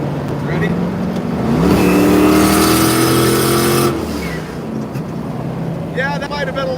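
A Rotsun car engine revs up hard with boost engaged, rising in pitch to a sustained loud roar before dropping back to a rough idle; a person speaks briefly near the end.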